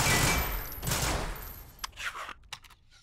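Gunfire from a weapon in the video game Synthetik 2: a dense burst of shots through the first two seconds, then a few sharper isolated cracks and clicks trailing off, with no talking.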